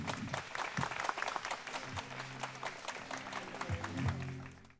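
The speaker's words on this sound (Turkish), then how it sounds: "biz yine güçlü alkışlarınıza ortak verelim" Guests at a wedding ceremony clap together in a sustained round of applause. It is moderately distant, with faint low voices or tones underneath, and fades out at the end.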